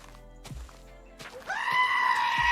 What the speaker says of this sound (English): Thank you very much for the sheep scream, otherwise known as the goat scream, because it is actually a goat.